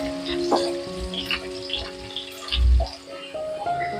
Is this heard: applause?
no